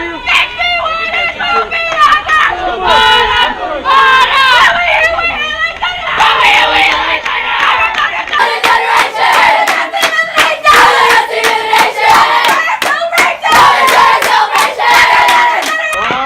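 Crowd at a 14u youth softball game yells and cheers excitedly, with shouts, whoops and sharp claps overlapping throughout, loud and close.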